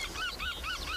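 Seagulls call in a run of about four rising-and-falling squawks in quick succession, moderately faint against a quiet background.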